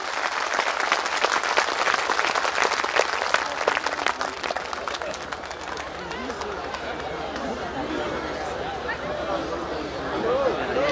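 An audience claps loudly for a guest speaker from Japan, Junsei Terasawa. The dense applause is strongest at first, then thins and mixes with crowd chatter and murmuring voices.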